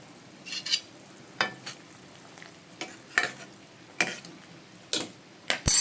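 Eggplant pieces drop into hot tempered oil for tamarind curry, a faint steady sizzle punctuated by roughly ten sharp clinks and taps of a spoon against the pan, with no talk.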